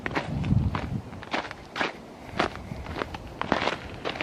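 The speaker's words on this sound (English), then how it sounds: "I love the sound of crunching snow." Footsteps crunching through snow on an outdoor winter walk, a steady series of close, crisp crunches in uneven rhythm with wind noise in the background.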